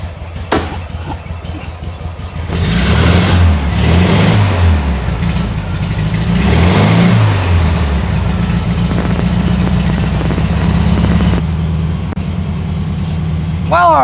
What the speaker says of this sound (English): All right, engine works